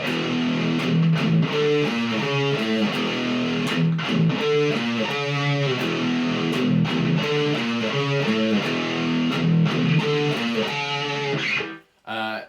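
A loud, distorted electric guitar riff chugs in a steady repeating pattern, dense and saturated, then cuts out briefly near the end before ringing again.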